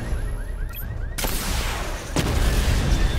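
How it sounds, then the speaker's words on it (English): Batman Arkham Knight missile barrage fired as a sudden loud burst of blasts followed by a second wave, with booming explosions and crackling debris that build into a dense, roaring wall of sound. "activate missile barrage"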